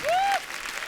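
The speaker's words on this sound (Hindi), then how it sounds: "एक बार जोरदार तालियां" A studio audience on The Kapil Sharma Show claps and cheers, with a single sharp rising whistle cutting through a brief burst of applause.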